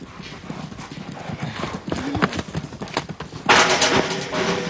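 Wild mustang horses in a corral, with steady hoof clip-clop on the ground and a whinny, growing louder and busier toward the end.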